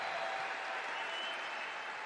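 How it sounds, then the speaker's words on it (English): Applause fills an arena during a Stanley Cup anniversary ceremony honouring the 1997 team, a dense, even wash of clapping from a large crowd, heard at a distance and fairly soft throughout. "another wonderful round of applause for all the wonderful memories"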